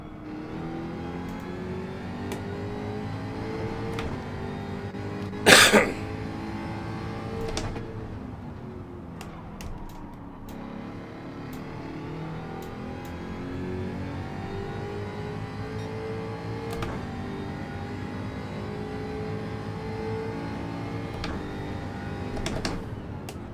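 Race car engine in Gran Turismo 7 during a Group 3 daily race at Watkins Glen International, holding a steady droning whine with gear-shift changes in pitch, moderately loud and continuous with a sharp burst near the middle.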